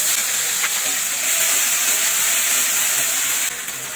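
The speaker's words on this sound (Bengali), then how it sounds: "তো এই তেলের মধ্যে আমি ফোড়ন দিয়ে দেবো।" Black cumin, ginger, cumin and chilli paste tempering hits hot oil in a loud, steady hiss that stays continuous and drops slightly toward the end.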